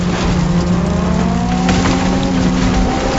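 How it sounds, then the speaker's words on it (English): A Mustang-style car in the Fortnite video game drives with a steady, loud engine drone that holds an even pitch throughout, with no voices over it. "the Mustang, of all the vehicles, the sound and the way it moves"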